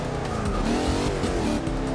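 A racing car in Forza Motorsport 6 stuck in second gear, its engine revving hard and steady close up, with a faint tire squeal and no speech.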